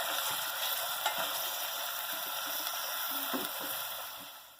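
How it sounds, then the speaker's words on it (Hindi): Sliced onions frying in oil in a pot, a steady broadband sizzle with occasional stirring scrapes and clicks, fairly close and continuous with no talking. "मैं प्याज को बिल्कुल अच्छा सा गोल्डन ब्राउन सा कलर आने तक इसको फ्राई करूँगी"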